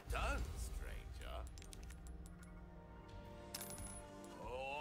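Coins from selling a jacket to the merchant in Resident Evil 4 Remake give a bright, brief metallic jingle that rings out against a game music bed, with someone talking around it.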